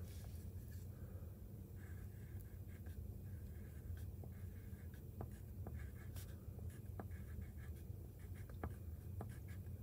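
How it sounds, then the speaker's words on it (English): Pen writing a secret password message on paper, a quiet, steady scratching with small irregular strokes over faint background hum, close up and without talk. "So I'll pretend like I'm writing a password to something."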